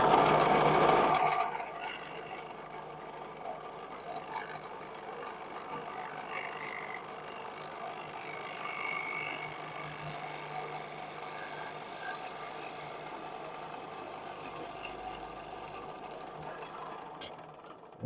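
A gouge cuts wood on a spinning wood lathe, giving a steady, quiet whirring hum with faint scraping that runs throughout after a brief louder burst at the start.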